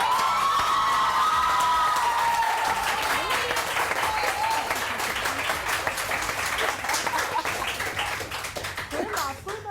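A TV studio audience claps loudly and continuously with some cheering, the applause slowly thinning toward the end while voices talk over it.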